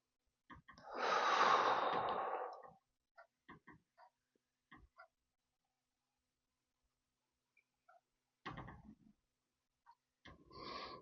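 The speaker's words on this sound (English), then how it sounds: "breathing." Slow breathing during a hatha yoga triangle pose: one long, soft exhalation near the start, then scattered faint breathy sounds and small noises, ending in another quiet breath, heard alone in a quiet room.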